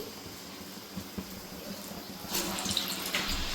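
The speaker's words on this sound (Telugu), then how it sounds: "ఇప్పుడు గారెలు అయితే వేసేసుకుందాం నూనె కాగిపోయింది" Lentil fritters (garelu) go into hot oil, and a bubbling sizzle swells after a couple of seconds and keeps crackling close by.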